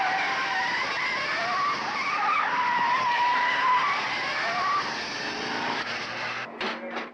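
Whitefoot's Datsun race car at the 1971 Hardie Ferodo 500 at Bathurst, tires squealing and skidding loudly and continuously with engine noise, then fading with a few rough bursts near the end.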